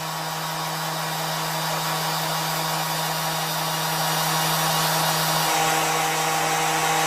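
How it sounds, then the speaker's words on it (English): A power sander runs steadily on a test bench in a workshop, giving a continuous loud, even whine and hiss with a constant low hum and no change in pitch, close and alone. "the sander is ready for a solo."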